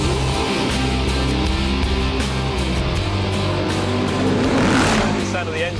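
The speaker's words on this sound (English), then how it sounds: "The sound of the engine's lovely." A McLaren MP4-12C sports car engine revs loudly and continuously on a test track, rising and falling in pitch as it accelerates, with a voice talking over it.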